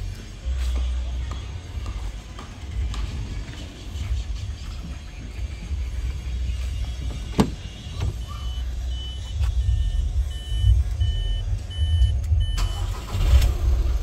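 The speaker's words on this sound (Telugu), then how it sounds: "ఒకసారి ఇంజన్ స్టార్ట్ చేసి మీకు చూపించడం జరిగింది ఇప్పుడు." A 2019 Volkswagen Vento Highline Plus diesel idles close by with a steady low rumble, broken by a sharp knock and faint high beeping tones near the end.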